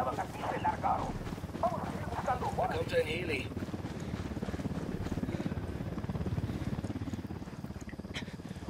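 A helicopter in the video game Ghost Recon Wildlands thrums steadily throughout, a low pulsing rotor drone with voices talking over it at the start.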